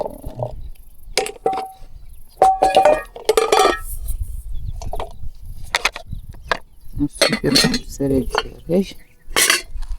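Dishes and cutlery clinking and clattering in quick irregular bursts, close by, with occasional bright ringing chinks and faint murmuring between.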